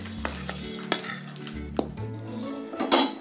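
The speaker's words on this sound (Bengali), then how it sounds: "খুব ভালো মতো মিশিয়ে নেব এটা" A chocolate mixture is stirred and mixed in a bowl, with a spoon clinking and scraping against the vessel in uneven strokes and a few sharper knocks, close by with no talking.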